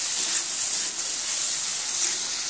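Ginger-garlic paste and turmeric sizzle with peas in a hot pan, giving a steady, close hiss of frying that holds even throughout with no voices over it.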